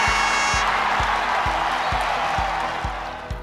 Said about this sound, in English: Cue the virtual applause.